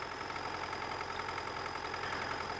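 Tractor engine in the Farming Simulator 19 video game, running at a steady drone with a continuous, even hum and no breaks, close and moderately loud throughout.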